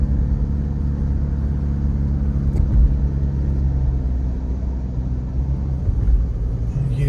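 A Toyota car cruises along the Ganga Expressway in India, giving a steady road rumble and a low engine hum heard from inside the car, with faint swells as it moves.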